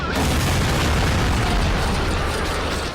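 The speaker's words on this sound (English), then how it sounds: "Never mind all the laser fire going on around you." Dense, continuous blasts and booms of laser fire fill a Lego Star Wars: The Force Awakens video game battle, loud and unbroken for the whole stretch.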